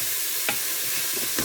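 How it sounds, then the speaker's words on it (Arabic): Onion frying in a pan gives a steady sizzle, with a utensil stirring it and scraping softly twice at the pan. "خلط البصله تاعي"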